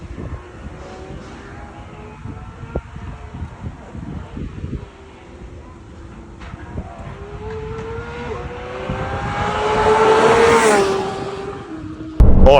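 Porsche 991.2 GT3 RS engine with mufflers on, a deep exhaust drone heard from inside the car that builds to a loud rising surge near the end, with faint wind and road noise underneath.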